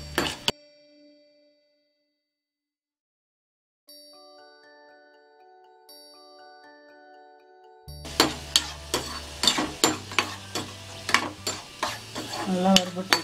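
After a near-silent stretch with soft chiming tones, almonds and raisins fry in a pan: a steady sizzle under repeated rhythmic scrapes and knocks of a spoon stirring against the metal.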